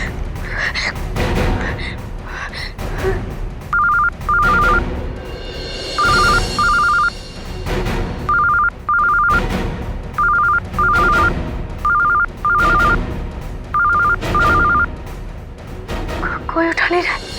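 A phone call home goes unanswered: a burst of keypad tones, then a repeating pattern of paired electronic ringback tones, heard alongside speech and drama-scene sound.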